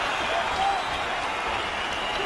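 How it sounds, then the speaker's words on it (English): A big London crowd at a UFC Fight Night between Anderson Silva and Michael Bisping roars and cheers in a steady, dense wash of noise that carries through the whole moment. "it is met by a huge cheer from the London crowd"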